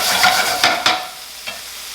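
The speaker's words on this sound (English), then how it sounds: "So you're pretty much just sauteing your herbs, then you add your saltfish." Herbs and saltfish are sautéed and stirred in a hot pan, giving a loud, close sizzle with a few scraping stirs and no voices.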